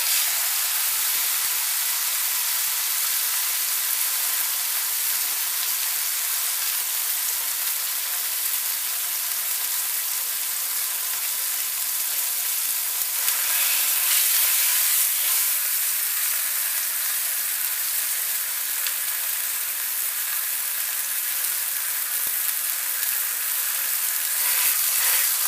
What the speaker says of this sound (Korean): 들어갈 때는 치 소리가 날 정도로 불이 세야 합니다